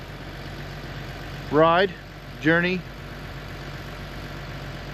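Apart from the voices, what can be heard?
John Deere 3039R tractor engine idling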